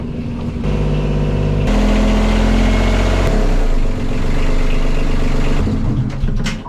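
A boat's diesel engine runs at fast idle inside a cramped engine compartment, a loud, steady mechanical drone with dense rumbling harmonics that shifts slightly in pitch partway through, heard close up with no talk.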